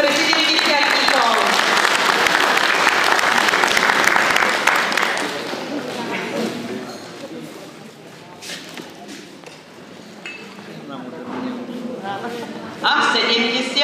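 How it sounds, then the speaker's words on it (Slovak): Crowd applause for 70-year-old honorees at a jubilee gathering, strong clapping for the first few seconds, then fading as a voice speaks, with a brief burst of noise near the end. "ešte raz potlesk pre 70-tníkov"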